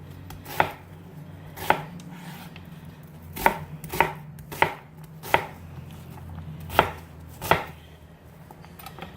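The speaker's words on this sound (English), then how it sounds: "we'll go ahead and cut up this last onion. And I'm cutting it pretty small." An onion cut into small pieces with a knife on a board, about a dozen sharp, evenly spaced chops over a low steady hum, with no talking.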